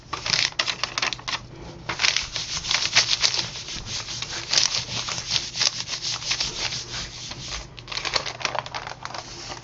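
A sheet of newspaper is rubbed by hand over an inked monoprinting plate, giving a continuous, close, dry scratchy rubbing with short rhythmic strokes and no voices.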